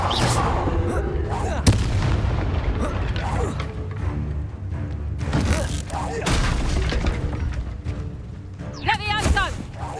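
Confringo fire spell cast in the video game Hogwarts Legacy: loud booming explosive blasts amid continuous combat effects and clatter, with sharp impacts around two, five and six seconds and whooshing spell sounds near the end.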